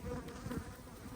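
Honeybees buzz around an open hive as a feeder is set on it, a steady, close insect hum with slight swells, no voices.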